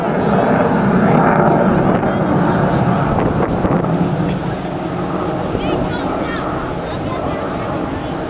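A Saab J 35 Draken jet flies at an air show over Ayr beach in Scotland, its loud, steady roar washing across the whole stretch with wind buffeting the microphone, fading slightly partway through.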